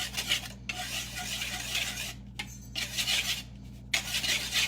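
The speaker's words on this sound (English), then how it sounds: "I'm gonna take my whisk here and mix them together so they're nice and incorporated" A whisk scrapes and rubs briskly around a bowl, mixing dry baking soda and cornstarch in steady bursts with short pauses, close and moderately loud, no talking.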